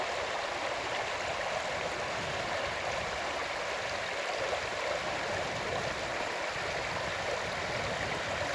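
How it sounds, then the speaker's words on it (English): Redwood Creek flows steadily over rocks during a backpacking creek crossing, making a constant rushing wash of water close by that does not change for the whole stretch. "We're now doing our fifth creek crossing"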